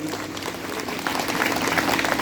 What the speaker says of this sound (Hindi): थोड़ा भरत सिंह जी के लिए भी ताली बजा दीजिए